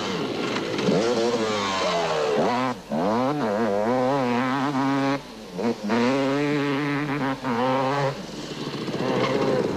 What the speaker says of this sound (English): closing in on him was Darrell Curtis on the AGA Panasonic Castrol KTM